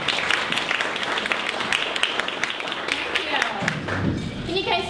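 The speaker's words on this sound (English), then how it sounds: "let's give her a warm round of applause and welcome her to LA2M." A small audience at an LA2M business meetup applauds a guest speaker with scattered, moderately loud claps, while voices murmur underneath.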